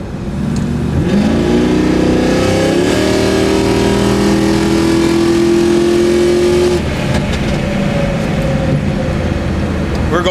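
A sports car engine screams loudly as it accelerates up through second and third gear, its pitch climbing steadily, holding high and then dropping off at the shift, heard from inside the car with constant road noise underneath.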